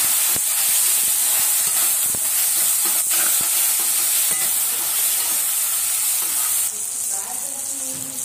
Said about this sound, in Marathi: आता आपण टोमॅटो टाकू, शेंगदाणे टाकू आणि छान हलवून घेऊ